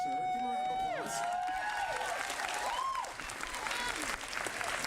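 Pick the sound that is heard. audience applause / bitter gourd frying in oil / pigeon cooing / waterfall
audience applause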